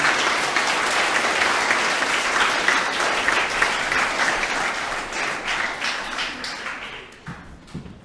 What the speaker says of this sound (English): We'll provide them another round of applause.